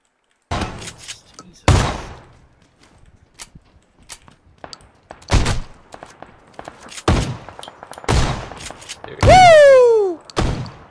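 Shotgun blasts in the battle royale game PUBG Battlegrounds: several loud, sharp, separate booms spaced a second or so apart, interleaved with excited shouting players and a high swooping tone near the end.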